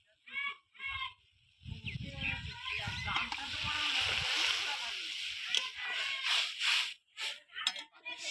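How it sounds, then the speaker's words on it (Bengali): Tamarind water poured into a pot of crab curry, a sloshing, splashing pour in the middle of the clip, with someone talking before and after. "এবার জল ঢেলে দিচ্ছি, তেঁতুলের জল।"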